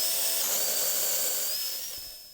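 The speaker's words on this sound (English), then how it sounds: "using the impact driver just to make sure that they're really wrenched down nice" An impact driver sinks bolts into a wooden jetty, a loud high-pitched whirring burst held for about two seconds before trailing off, close up with no talk.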